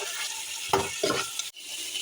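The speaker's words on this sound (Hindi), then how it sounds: "अब हमने शामिल कर देना है चिकन। चिकन को फ्राई कर लेना है 3 से 4 मिनट।" Chicken fries with golden-browned onions for korma, a hissing sizzle filling the pan, with two louder bursts of stirring and scraping before the sound briefly drops away and resumes.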